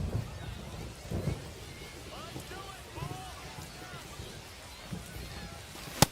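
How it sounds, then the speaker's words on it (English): Rain in the baseball video game MLB The Show 25, a soft steady hiss of rainfall under faint crowd murmur and low rumbles, quiet throughout with one sharp click near the end. "Well, the rain's still a factor here"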